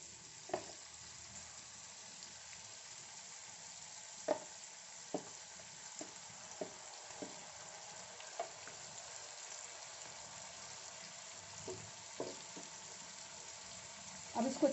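Curd-marinated paneer fries quietly in a pan under a low steady sizzle, punctuated by scattered clinks and scrapes of a spoon stirring at irregular intervals.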